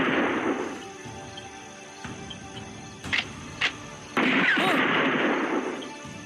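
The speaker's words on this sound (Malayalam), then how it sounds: "നോക്കി നിൽക്കാതെ വേഗം വെടിവെച്ച് കൊല്ലവനെ." Gunshots ring out in a dramatic stage production: a couple of sharp bangs in the middle, then a heavier blast followed by a sustained loud rumble, over a quieter noisy background.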